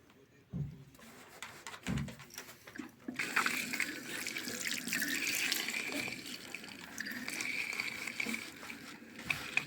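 Running water from a tap splashes as sooty hands are scrubbed with a sponge and Fairy dish soap, a steady close rush with rubbing and small knocks at the start.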